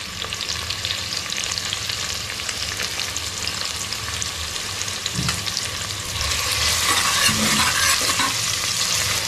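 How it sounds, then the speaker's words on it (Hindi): Onions sizzling in hot oil for a lobster dish, a dense, continuous frying hiss with soft stirring scrapes that grows a little louder and brighter in the final seconds. "तेल गर्म हो चुका है और प्याज डाल दिया हो"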